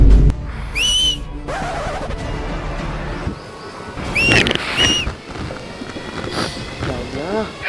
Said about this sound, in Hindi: ओ, कितनी भी सीटी बजा ले